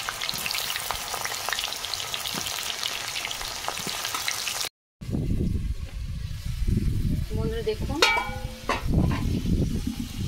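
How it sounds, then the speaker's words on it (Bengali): Potatoes hit hot oil in a pan with a loud, continuous bubbling sizzle. After a brief break, a voice speaks over quieter cooking sounds. "তেল গরম হয়ে গেছে, আলু দিয়ে দিচ্ছি।"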